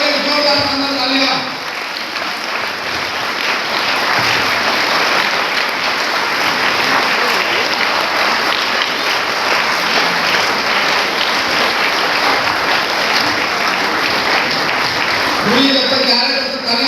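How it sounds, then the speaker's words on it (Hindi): A large crowd at a public address gives loud, sustained standing applause, a dense wash of clapping that runs for over a dozen seconds, with a voice briefly heard at the start and end. "जोरदार शानदार तालियां"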